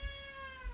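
A cat meows once near the start and again near the end, with a steady high electronic whine running underneath.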